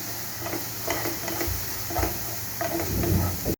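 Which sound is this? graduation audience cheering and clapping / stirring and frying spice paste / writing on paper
stirring and frying spice paste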